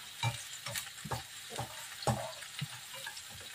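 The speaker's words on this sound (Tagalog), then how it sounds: "Tapos lagay na natin yung red onion and white onions." Red and white onions fry in a pan, with a steady sizzle beneath repeated scraping stirs that come about every half second, close and clear.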